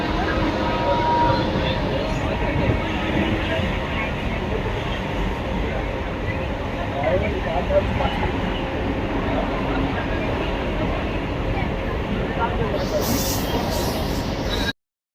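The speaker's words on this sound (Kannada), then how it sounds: "ಟ್ರೈನ್ ಹೋಗ್ತಾ ಇದೆ." Steady, loud rumble of a moving, crowded train from inside a carriage, continuous throughout with murmuring voices underneath.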